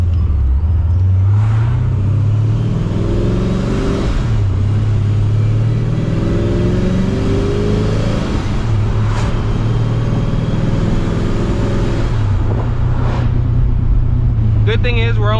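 Steady low engine drone and road rumble from a supercharged Pontiac GTO held in third gear while cruising, continuous and loud inside the cabin with slight rises and dips in pitch.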